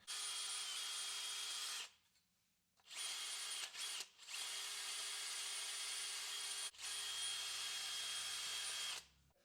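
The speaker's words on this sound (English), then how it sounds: "my impact with a little wire brush here and just basically start cleaning up the bracket a little bit" Impact wrench spinning a small wire brush against rusty brake brackets on a 2022 Ram 3500, loud and steady grinding whir in three long bursts separated by short pauses, close up with no talking.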